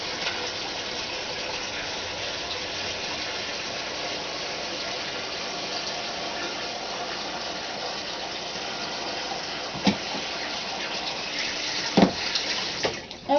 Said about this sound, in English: now we're going to cover them with water